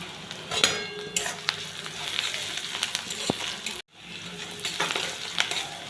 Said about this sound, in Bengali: পেঁয়াজটা আর রসুনটা ভালো করে ভেজে নেব